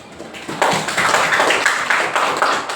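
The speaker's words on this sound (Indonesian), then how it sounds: "Kita berikan aplaus bersama." A classroom group claps together, a brisk burst of many hands starting sharply and holding steady and fairly loud for a couple of seconds.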